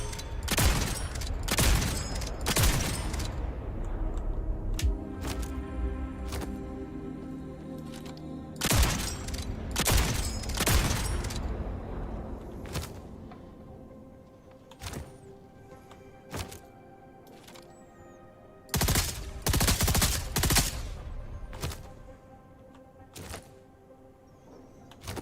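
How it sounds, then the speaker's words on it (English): Video game guns fire at a shooting range in several loud, punchy clusters of rapid shots separated by quiet gaps, with occasional single shots and mechanical clunks in between. "there's like a shooting range where you can use all the guns"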